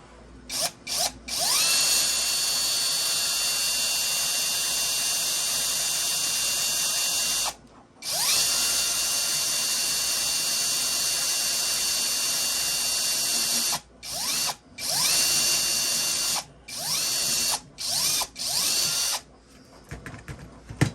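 A power drill whines loudly through 3D-printed plastic in long runs, stopping and restarting several times with short, sharp bursts near the end.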